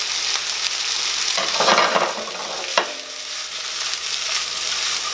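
Bell pepper fries in a pan on high heat, giving a constant loud sizzle with a couple of brief bursts as pieces are stirred or moved.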